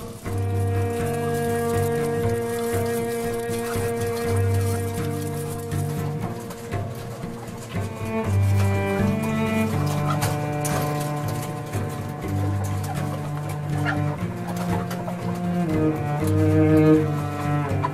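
Crowds of caged hens on a battery-cage farm keep up dense, continuous clucking and squawking, loud and close throughout, with no talking.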